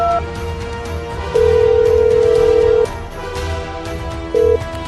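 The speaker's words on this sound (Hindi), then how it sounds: "रॉकी, जकीरा को फोन लगाओ" A phone call rings out as a steady electronic tone, one long beep and a short second one, with a faint background hum and no talking.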